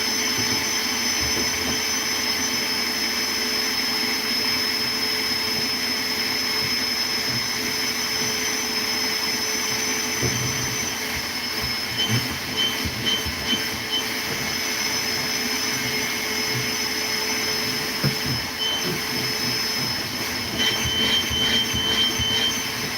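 A vacuum cleaner runs inside a Ford Transit campervan, a steady loud whooshing drone with faint clicks and bumps from the nozzle, continuous throughout with no talking.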